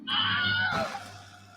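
The Wilhelm scream effect in a Star Trek parody fan film: one loud, high, falling scream lasting under a second, fading into a low steady hum.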